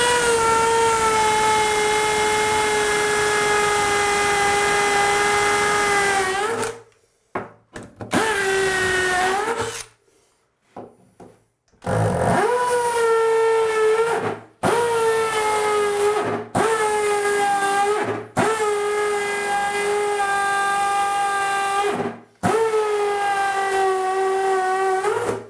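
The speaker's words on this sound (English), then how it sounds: "Hammer drill, full speed." A hammer drill with a 1/4 inch bit whines at full speed in long, loud bursts, stopping briefly and starting again several times as it grinds through tile over cement board.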